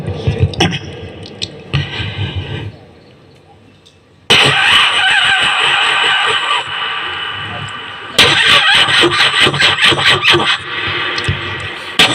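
A human voice imitates an old engine cranking, starting and cutting out, loud bursts of sputtering and revving separated by short pauses and a quiet stretch, close to the listener.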